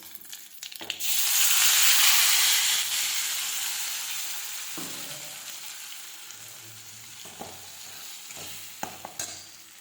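Tempering for Madurai coconut chutney crackles into a loud, sustained sizzle that slowly fades over several seconds, with a few sharp ticks and clinks near the end.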